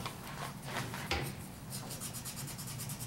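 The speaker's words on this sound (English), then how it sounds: "Do a little bit more sanding." Steady rhythmic sanding rasps back and forth close up on a carved wooden shell, a dry scraping stroke repeating without speech.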